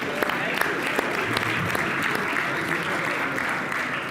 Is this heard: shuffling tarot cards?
no